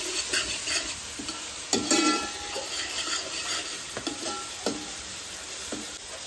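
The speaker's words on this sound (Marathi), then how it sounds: "कांदा आणि टोमॅटो ना मऊ होईपर्यंत आता भाजून घ्यायचं, म्हणजे फ्राय करून घ्यायचं तेलामध्ये." Onion and tomato frying in oil for chicken on a wood-fired stove in a Konkan home kitchen give a steady sizzle, broken by repeated scraping and clacking stirs of the pan, with no voices.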